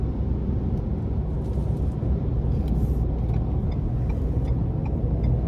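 Steady low engine and road rumble from a 2023 Ford F-150 Tremor pickup with a twin-turbo V6, cruising down the interstate; a continuous, even drone with tire and wind noise and no talking.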